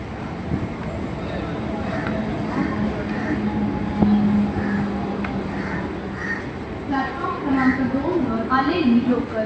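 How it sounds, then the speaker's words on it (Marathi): A Harbour Line suburban local train in Mumbai rumbles into a station beneath steady crowd noise, while someone talks over it and station sounds echo faintly in the background. "ट्रेन आली आता मी पकडून ट्रेन जाऊ लोकल"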